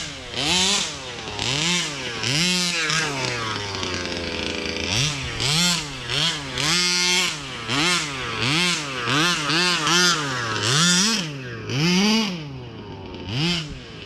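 A Rovan 5B Baja 1/5 scale RC car's small gas engine is run at up to about half throttle, rising and falling in repeated buzzy, chainsaw-like revs that stay close and loud throughout, with no talk.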